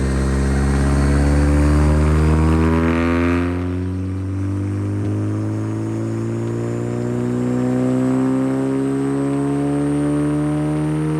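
A salvaged car rebuilt into a race car with a factory TCR wing, its engine droning and revving steadily on a dyno, loud and close, with pitch climbing and falling in smooth sweeps and no voices.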